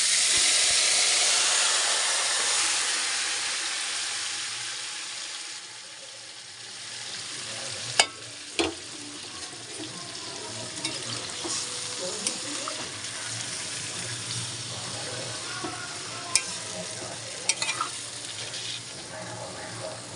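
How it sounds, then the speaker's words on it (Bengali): Chunks of meat hit hot oil in a pan for homemade biryani, giving a loud, bright sizzle that eases after a few seconds into a softer, steady frying hiss with occasional clinks and stirring noises. "মাংসটাকে আমি তেলের মধ্যে দিয়ে দেবো।"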